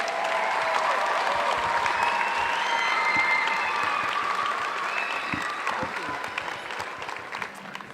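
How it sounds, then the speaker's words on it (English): Sustained applause from an audience at the Port Coquitlam May Day opening ceremonies for a group of dancers, steady and moderately loud with a few scattered cheers and tonal sounds mixed in. "Give them one more round of applause."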